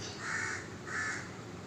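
A crow beside a sleeping monkey gives two harsh, drawn-out caws in even succession, fairly close and clear over a quiet background.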